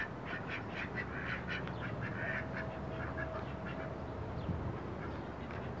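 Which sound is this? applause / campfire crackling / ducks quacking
ducks quacking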